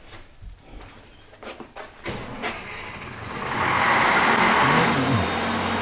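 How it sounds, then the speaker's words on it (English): A generator engine cranks with a few uneven sputters, then catches and settles into a steady, loud running drone close by. "Just fired up a generator"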